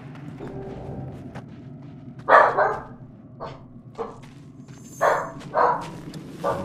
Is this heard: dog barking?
yes